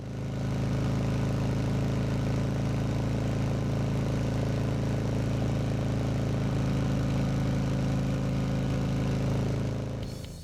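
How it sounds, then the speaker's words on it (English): A 2025 Harley-Davidson CVO Street Glide motorcycle engine drones steadily at highway speed, a loud, constant low rumble with wind noise that holds even throughout before easing at the very end. "This is a motor that pulls hard, all RPM long and all day long"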